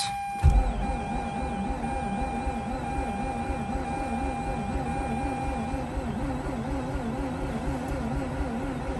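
A 2004 Mazda RX8 barn find that has sat unstarted for two years cranks on its starter, a loud, close, steady rhythmic churning that runs without a break for about nine seconds and never catches.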